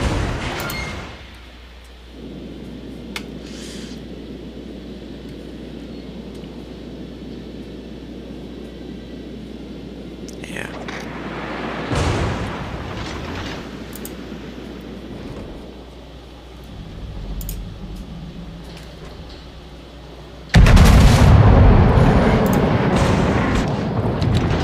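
Battleship main guns firing in World of Warships, heavy booming blasts that swell into long rumbling roars, with a loud burst near the end over constant background engine hum.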